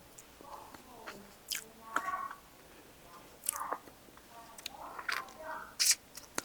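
Someone eats homemade creamy sunflower seed butter, making soft, close, moist chewing and smacking sounds in scattered bursts against a quiet background.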